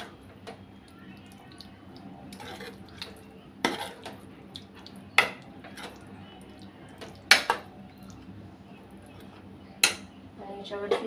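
Mutton curry gravy is stirred in a pot, with scattered sharp clinks of a metal spoon against the pot rim over a low steady kitchen background, and a few louder knocks spaced several seconds apart.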